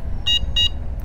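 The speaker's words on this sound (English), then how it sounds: "Let's try out the horn." Two short, high-pitched electronic beeps in quick succession from an Engwe Engine Pro folding e-bike's horn, close by, over a steady low rumble of wind and road noise.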